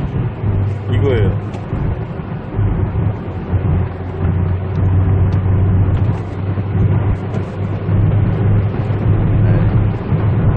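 A Mercedes-Benz SLK fitted with aftermarket exhaust mufflers and a mid-pipe, accelerating at around 100 km/h, gives a steady loud engine and road drone with low tonal bands throughout, with no clear speech over it.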